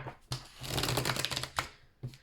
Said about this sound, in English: this shuffle was terrible, so let me shuffle again